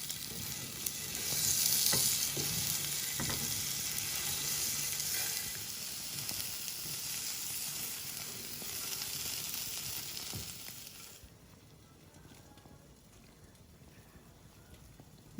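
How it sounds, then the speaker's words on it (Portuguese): Arroz carreteiro rice with beef and bacon sizzles and fries in a pan while being stirred, a steady close crackle with scraping stirs that quiets toward the end. "Mais uma mexida aqui para a gente conferir se o arroz está ficando cozido e al dente."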